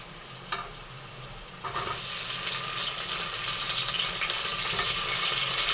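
Chopped tomatoes hit hot oil with a sudden loud sizzle that settles into steady frying, with occasional stirring scrapes throughout, while cooking an oyster mushroom gravy.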